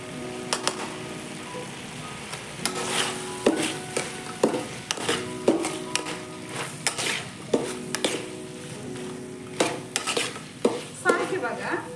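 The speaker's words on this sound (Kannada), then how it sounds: "ಸ್ವಲ್ಪ ಬಿಸಿ ಆಗೋ ತನಕ ಫ್ರೈ ಮಾಡ್ಕೋಬೇಕು. ಹೈ ಫ್ಲೇಮಲ್ಲಿ ಇಟ್ಕೋಬೇಕು." Gobi manchurian frying in a pan on high flame, with a steady sizzle under repeated clinks and scrapes of a spoon stirring against metal, close and alone with no talk.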